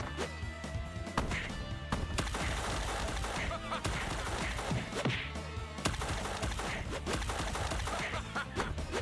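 Gunshots in the G.I. Joe Wrath of Cobra video game: scattered loud shots and impacts mixed with clanking and crashing effects, spread irregularly across a busy battle scene.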